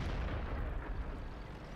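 A tank cannon firing in World of Tanks, a heavy low boom that fills the short stretch and rumbles on loudly with no talk over it.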